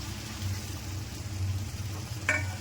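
Prawns sizzle in a pan of dahi chingri as a little water goes in, a steady low frying hiss with a brief sharper spatter near the end.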